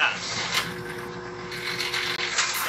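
Fuel from a Dixon pump circulates through the bypass of a diesel fuel tank pressure washing system, a continuous loud mechanical whir with faint rattling, steady throughout.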